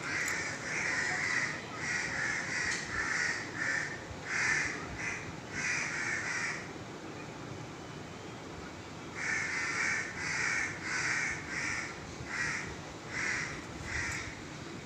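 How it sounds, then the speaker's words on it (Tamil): Crows caw repeatedly from a neem tree in two long runs of harsh, rhythmic calls, loud and fairly near, separated by a brief lull. "இந்த வேப்ப மரத்தில் இருக்குது காக்காய் சத்தத்தை பாருங்கள்"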